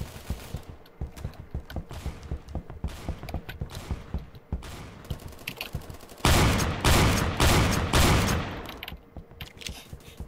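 Gunfire in the Roblox shooter Phantom Forces: a run of sharp single shots in steady rhythm, then a loud burst of rapid automatic fire lasting a couple of seconds, close and prominent.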